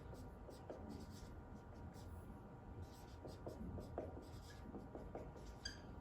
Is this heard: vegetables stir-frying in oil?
no